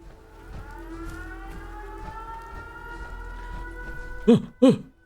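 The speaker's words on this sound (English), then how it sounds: "It's the sirens!" Air raid sirens in the video game Fallout 4 wail in long sustained rising tones over a low rumble, then two sharp, close throat-clearing coughs break in near the end.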